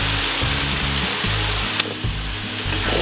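Garlic and shallots sauté in a pan with a steady sizzle. A loud low hum rises and falls beneath it in pulses, and a sharp click comes partway through.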